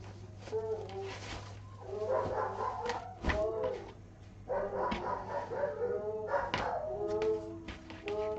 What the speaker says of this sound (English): Do you hear the dogs howling?